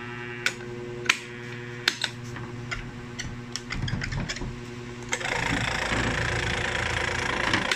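An old, faulty Hanabishi electric wall fan being tested: a few sharp mechanical clicks and knocks at first, then the motor starts and settles into a steady, close whirring hum for the last few seconds.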